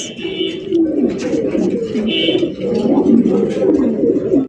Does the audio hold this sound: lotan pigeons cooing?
yes